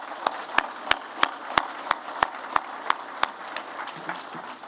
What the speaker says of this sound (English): join me in giving them one more round of applause